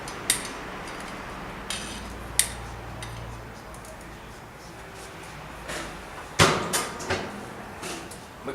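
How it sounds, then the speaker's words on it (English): The metal door of a Jayline UL200 wood fire heater is swung shut, giving a cluster of sharp metallic clanks and latch clicks after a few lighter knocks, close and fairly loud. "We're closing that door right up."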